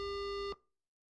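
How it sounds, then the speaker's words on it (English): In the video game Sympathy Kiss, a steady electronic phone tone plays at moderate volume for about half a second, then cuts off abruptly and leaves silence, like a call being hung up. "The phone clicked as he hung up,"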